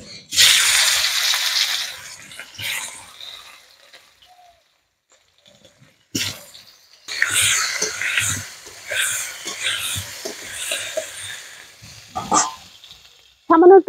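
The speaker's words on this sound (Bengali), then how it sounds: "আলুগুলোকে ভেজে নেব।" Potatoes fry in a pan with a little turmeric for a Bengali duck egg curry. The close, crackling sizzle comes in strong bursts and drops to near silence for a couple of seconds midway.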